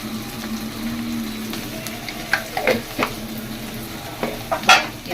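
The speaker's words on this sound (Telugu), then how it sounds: "మొత్తాన్ని ఇప్పుడు కలుపుకోవాలి. ఈ పచ్చిమిర్చి, అల్లం వెల్లిగడ్డ" Ginger-garlic paste and green chilli being stirred into a raw banana curry in a pan, with a low steady sizzle and a few scraping spoon strokes near the end, close and moderately loud, no talking.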